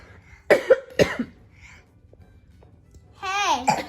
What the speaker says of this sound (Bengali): আমি কাশতেছি যে